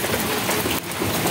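Heavy rain pours down outdoors in Matunda, a dense continuous hiss of drops hitting surfaces, loud and steady throughout with no voices.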